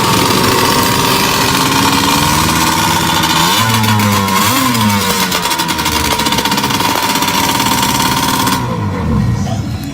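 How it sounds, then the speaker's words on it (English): A vintage snowmobile engine roars loud and close, holding a steady high-revving drone with slight pitch wavers, then cuts down near the end; no one talks over it. "It's alive. It runs."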